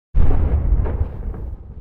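Designed explosion effect built from an iPhone mic recording: a sudden loud boom that rolls into a dense, rumbling body and a slowly fading tail, heard alone.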